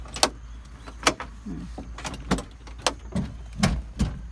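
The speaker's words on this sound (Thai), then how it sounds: "คุณแม่เปิดประตูก่อนนะคะ" Car door being opened, a series of sharp clicks and latch knocks spaced through the moment, close and fairly loud with no talk.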